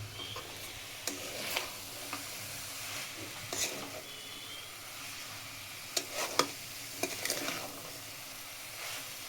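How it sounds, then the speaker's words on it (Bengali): Prawns fry quietly in a pan, a faint steady sizzle with scattered utensil scrapes and clinks as they are stirred, a few louder knocks near the end, and no voices. "চিংড়ি মাছ দেওয়ার পরে একটু নাড়বো"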